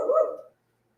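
A single short dog bark or yip, close and fairly loud, cut off sharply after about half a second and followed by silence.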